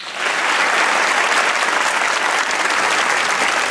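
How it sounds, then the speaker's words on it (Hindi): A studio audience on a Pakistani talk show breaks into applause, the clapping swelling quickly to a loud, dense, sustained roar that holds steady throughout. "तालियां बजाइए"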